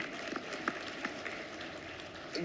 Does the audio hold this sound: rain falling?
no